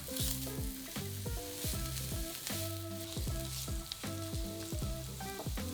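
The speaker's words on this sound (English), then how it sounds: "Add a finely diced onion and cook for 5 minutes, stirring often until the onion softens." Finely diced onion sizzles in olive oil in a frying pan over medium-high heat, a steady close crackle with repeated clinks and scrapes of stirring throughout, no voices.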